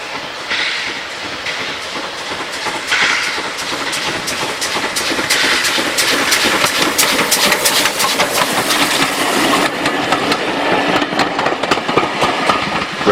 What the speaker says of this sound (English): LNER N7 69621, once a Lowestoft engine according to my notes, departs from Levisham on the moors in May 2007.